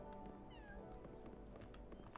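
A cat gives one brief, quiet meow against low room background, with faint clicks and rustles around it.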